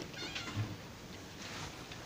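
A domestic cat meows a few times, soft and fairly close, against a quiet room with no talking.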